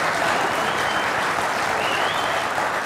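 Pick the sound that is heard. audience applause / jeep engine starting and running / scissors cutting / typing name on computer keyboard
audience applause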